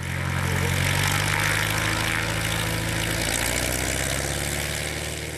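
A small propeller airplane runs its engine at takeoff from a sloped mountain backcountry airstrip in Idaho, a loud, steady droning roar with low throbbing that holds throughout.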